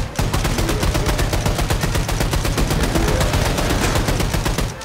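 A silenced weapon fires in Wolfenstein II in a steady, rapid automatic stream of evenly spaced, loud, close shots. There is no talking under it.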